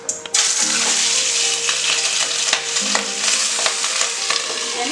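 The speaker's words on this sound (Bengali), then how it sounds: "মাছের মাথাটা এবার আমি দিয়ে দিচ্ছি।" A fish head going into hot oil in a Bengali home kitchen while cooking pui shak, with steady crackling and sizzling throughout, scattered sharp spatters and a low hum underneath, close and moderately loud.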